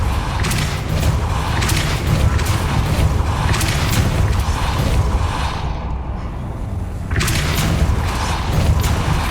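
Depulso force spell cast in the Hogwarts Legacy video game, heard as a dense, steady booming rush of thumping low-end energy with whooshing bursts, sustained and loud with a brief dip near the middle.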